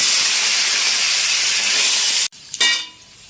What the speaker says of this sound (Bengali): তেল গরম হয়ে গেছে, এবারে আমি সবজিটা দিয়ে দেবো